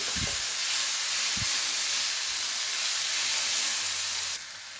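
Rohu fish pieces fry in hot oil in a pan while being stirred. A bright, steady sizzle fills the clip, with a couple of dull stirring knocks early on, before it quiets slightly at the end.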